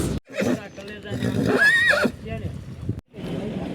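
A horse tied up indoors during a village wedding procession lets out a loud, close whinny that rises and falls, with hoof shuffling and people talking nearby.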